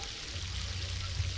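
Water poured into a pot of rice and peas cooked with green pepper, a steady close splashing pour with a low gurgle running throughout.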